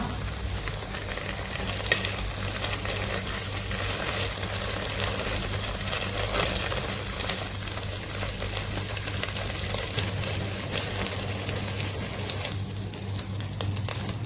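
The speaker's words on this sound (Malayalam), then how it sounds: "രണ്ട് സൈഡും ഒരു മുക്കാൽ വേവ് ആയിട്ട് ഫ്രൈ ചെയ്തെടുത്തിട്ടുണ്ട്" Chicken pieces frying in hot oil in a pan, a dense, steady sizzle and crackle lasting throughout, close and even, with no voices.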